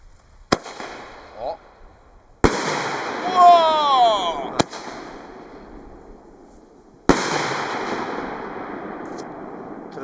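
Several loud shots from 30 mm single-shot fireworks with blue powder bang out outdoors, each followed by a hissing, crackling burst that lingers, with wind noise and scattered voices in between.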